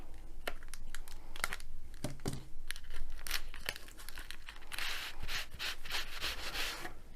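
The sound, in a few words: cutting open the packaging of a diamond painting parcel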